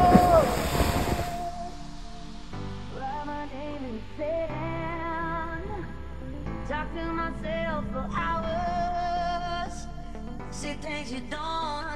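Ocean surf at the sea caves near Ayia Napa, Cyprus, rolls in as a steady broad wash with wind buffeting the microphone, beginning with a loud gust and continuing under music-like tones and faint voices.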